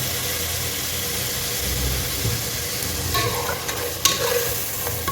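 Onions frying in a pan for beef dum biryani give a steady, close hiss of sizzling oil, with a few faint clinks near the end.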